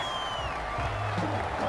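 Stadium crowd noise in Madden 21, Colts at Bears, forms a steady roar of fans under a few sustained tonal sounds and short game effects.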